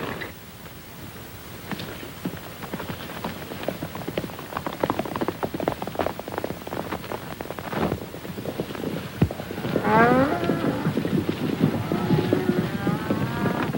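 Cattle low in a 1939 Western set on a ranch, their drawn-out moos rising over a steady bed of hoofbeats and rough outdoor noise, growing louder and more layered in the final few seconds.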